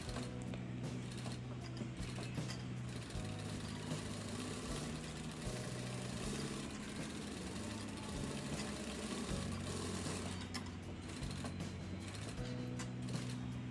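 A sewing machine stitching a 38-size half-collar-neck blouse, a low steady mechanical whir with rhythmic rattling stitches that pause briefly and restart, running close and continuous.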